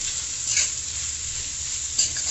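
Fried capsicum and onion are stirred into a paste in a pan: a continuous close sizzle with a couple of scraping strokes of the spoon, steady and fairly loud, without talk.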